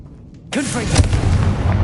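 A single Confringo spell blast in Hogwarts Legacy bursts in suddenly after a quiet moment, a loud boom that rolls on with rumbling debris, while a voice speaks over it.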